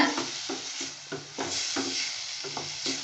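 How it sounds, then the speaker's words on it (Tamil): Steady sizzling of ground onions frying in a pan, with periodic scraping and stirring strokes, close and continuous. "அதனால் வெங்காயத்தை அரைச்சி போட்டுக்கணுங்க. நல்லா வணக்கலாமுங்க."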